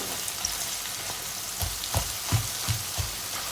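Eggs with spinach fry in a generous amount of oil, giving a close, steady sizzle, and a few soft thumps and scrapes of stirring come near the end.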